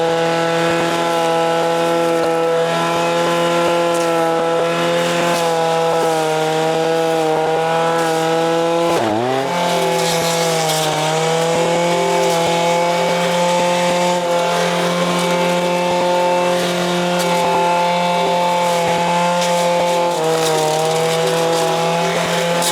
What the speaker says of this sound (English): I'm gonna go ahead and put the trimmer back on and just continue with the trimmer demonstration.